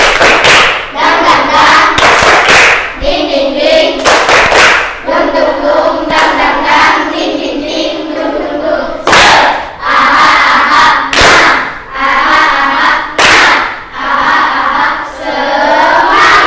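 A classroom of students in Indonesia perform a rhythmic spirit clap, loud synchronized clap bursts alternating with shouted group chanting, repeated in a steady pattern throughout and close by.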